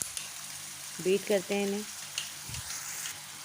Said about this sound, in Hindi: फ्राई कर लेते हैं इसे। जब तक ये फ्राई हो रहा है